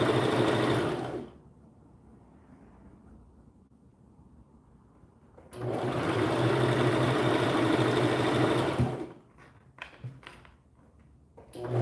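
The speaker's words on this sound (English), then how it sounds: "We're going to start, then back stitch, and sew all the way down." A sewing machine stitches fabric for a simple summer top in two loud, steady mechanical runs, the first brief and the second several seconds long, separated by a quiet pause and followed by faint handling clicks.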